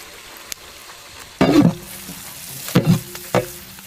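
Chopped onions hit hot coconut oil and ghee in a village chicken biryani pot, giving a few loud bursts of sizzling and stirring separated by quieter frying, with no talk.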